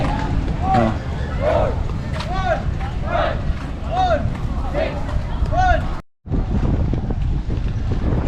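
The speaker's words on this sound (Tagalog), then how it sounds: "Ang lakas ng hangin dito, ang lamig. Parang walang patid yung hangin." Strong, cold wind roars steadily into the microphone by a ship harbor in Puerto Princesa, Palawan, a constant buffeting rush with people talking faintly underneath, briefly cutting out near the end.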